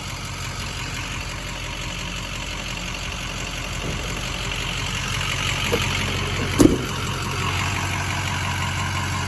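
A 2007 Ford F-250 Powerstroke diesel truck idling nearby, a steady low engine drone with one brief sharp knock partway through and no talking.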